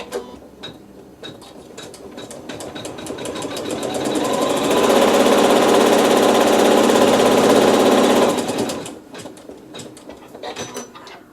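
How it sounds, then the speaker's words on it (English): A sewing machine runs a tack-down stitch on a Dresden quilt block with neutral thread. After a few quieter mechanical clicks it speeds up into a steady, loud whirring run of about four seconds, then stops. "sew the tack down stitch still with the neutral thread"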